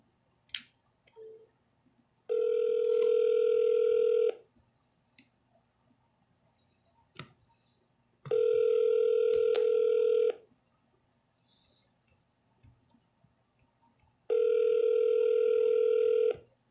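Telephone dial tone during a cold call placing residential real estate listing calls, sounding in three steady two-second bursts separated by quiet gaps with faint clicks, clear and close with no talk.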